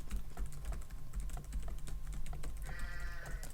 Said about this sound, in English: I'll type that in the chat.